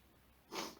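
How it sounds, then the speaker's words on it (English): A single short, close nasal sniffle rises suddenly out of near quiet and fades within a fraction of a second. It comes from someone eating spicy cheesy jalapeno chicken nuggets. "Little sniffle."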